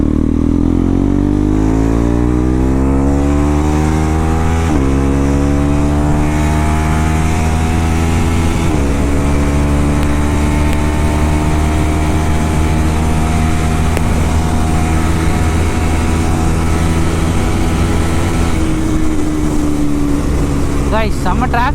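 A modified KTM Duke 390 Gen 3 motorcycle ridden through Chennai traffic, its exhaust note loud and close, droning steadily and rising through the gears as the rider accelerates.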